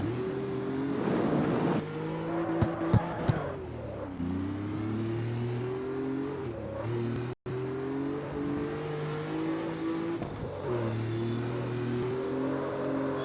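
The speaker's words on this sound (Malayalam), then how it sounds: "വണ്ടി പറക്കുണ്ട്" A 1000 hp Porsche in a racing video game revs hard, its engine note climbing and dropping through repeated gear shifts in a continuous loud, close whine with no talking.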